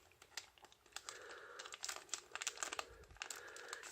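Plastic packaging of a Yu-Gi-Oh Link Vrains Box limited edition OCG card box crinkled and crackled close up as it is opened, with a run of irregular crisp rustles and snaps.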